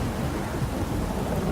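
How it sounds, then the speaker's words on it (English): A thunderstorm rumbles in The Witcher 3, with a heavy low roll of thunder under steady hissing rain, loud and continuous for the whole brief span. "A storm, damn it."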